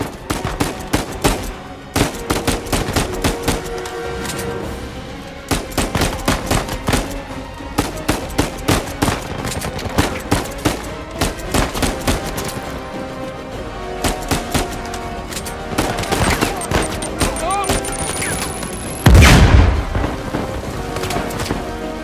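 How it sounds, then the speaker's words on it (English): Uncharted 4 firefight: repeated rapid bursts of gunfire crackle throughout, loud and near, separated by short pauses over a steady ambient bed, with a heavier boom-like impact and a rising whine late in the sequence. "I'm getting shot."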